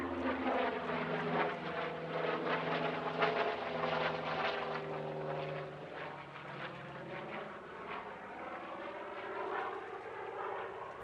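A warbird aircraft powered by a huge 3,050 horsepower Curtiss-Wright R3350 radial engine flies past at an airshow, a steady, sustained engine drone with a slowly shifting pitch that stays fairly distant and even throughout.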